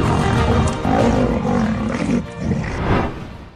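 A big cat, a lion or tiger, roars loudly and close, a deep rumbling growl sustained in long swells with brief dips between them.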